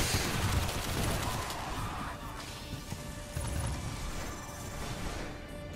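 Minigun fire in a video game, heavy dense bursts and crashing impacts loudest at the start, then continuing less intensely beneath game action noise, no talk.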